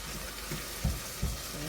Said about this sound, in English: You're just going to give them a minute or so and let them saute and absorb some of that olive oil.